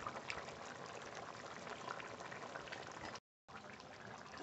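A Bengali fish curry made from a large 2 kg fish simmers in a pot with a steady bubbling and gurgling boil, close and continuous except for a brief silent gap.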